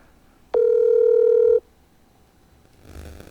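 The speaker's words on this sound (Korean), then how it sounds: "광교 스마트 공인의 강희정 대표님과 전화 연결을 해서 광교 상황이 어떤지 한번 여쭤보도록 하겠습니다" A steady telephone tone sounds alone for about a second as a call connects for a Korean real-estate radio talk show, then cuts off to quiet line noise.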